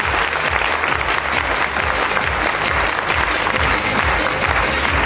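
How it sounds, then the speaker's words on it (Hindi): Dense, steady applause from a large audience at a seminar, loud and continuous for several seconds with no pauses. "एक बार इन महागुरुओं के लिए प्लीज जोरदार तालियां।"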